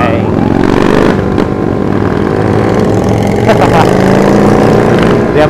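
A motorcycle cruises in third gear on a Sunday-morning group ride, its engine droning loud and continuous up close with steady wind rush, a brief gear-shift dip near the middle.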